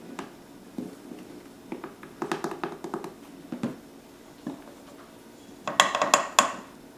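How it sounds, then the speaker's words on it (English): Dry ingredients, flour and cornmeal, are mixed in a bowl for honey cast iron cornbread, giving scattered close taps and scrapes of utensil on bowl, with a brighter burst of clinking near the end. "So first I'm going to mix together our dry ingredients"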